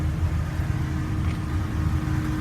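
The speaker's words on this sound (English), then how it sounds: "Engine sounds good." A 1999 Dodge Ram 3500 utility truck engine idles steadily up close, a continuous low rumble with a faint mechanical whine, no voices over it.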